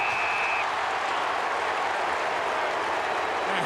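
Large football crowd at an AFL match between Carlton and Greater Western Sydney, a steady roar of cheering and noise that fills the whole stretch with no break.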